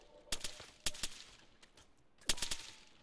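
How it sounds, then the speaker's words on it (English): Gunfire in the military video game Arma 3 comes as short, sharp bursts of shots at irregular intervals, several clusters spread over a few seconds, moderately distant over a quiet background. "They're shooting."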